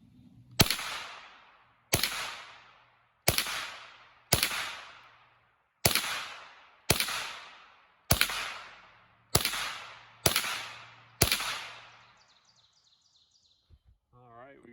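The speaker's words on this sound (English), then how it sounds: "try and get it as close to that top right target and stay as still as possible while dumping the ammo" Rimfire rifle fired at targets, ten sharp, evenly spaced cracks about one per second, each with a short echoing tail, then quiet with faint rustling at the end.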